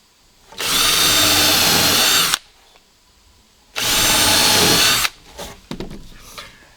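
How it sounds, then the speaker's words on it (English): A power drill bores pilot holes for screws into wet lumber while an outdoor kitchen is being built, two loud sustained bursts of about two seconds each, followed by a few quieter handling clatters. "I drill a pilot hole."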